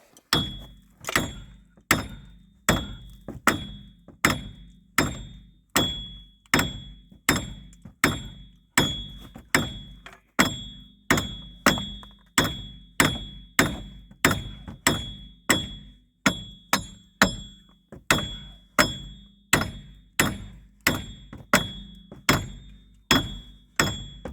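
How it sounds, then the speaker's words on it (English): Steady, evenly spaced metal hammer blows strike a heavily rusted, stuck car part, about two per second, sharp and close, ringing briefly after each hit for the whole stretch. "let's keep banging on this thing and hopefully it just falls out for us"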